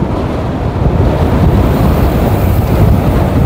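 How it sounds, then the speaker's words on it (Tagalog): Strong wind during a cycling race on the Guimba bypass road: loud, constant wind buffeting the microphone, a dense roar with no pause and no voices. "Medyo malakas talaga yung hangin."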